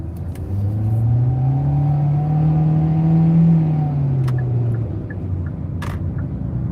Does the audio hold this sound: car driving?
yes